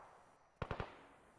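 A quick burst of three gunshots in a military checkpoint video game rings out faint and distant, with low background hum before and after.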